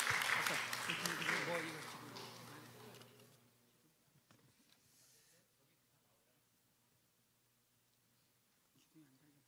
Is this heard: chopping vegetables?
no